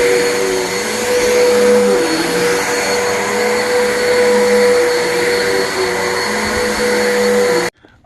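A vacuum cleaner runs over upstairs carpets with a loud, steady whine and motor drone that holds constant for about seven and a half seconds before cutting off abruptly.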